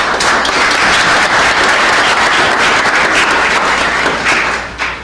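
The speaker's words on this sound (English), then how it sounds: "for that, we applaud you" A large crowd applauds an honoree at a high school athletics awards ceremony. The clapping is loud and sustained, a dense continuous roar of hands that holds steady before tapering off at the end.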